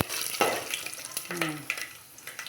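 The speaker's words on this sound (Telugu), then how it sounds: "దీంట్లో కొంచెం వేగాక మనం వేరుశనగ గుళ్ళు కూడా యాడ్ చేసేసుకుందాం" Peanuts frying and being stirred in a hot pan for rice rava upma, a soft sizzle with scraping stir strokes and a few clinks, while a voice murmurs faintly in the background.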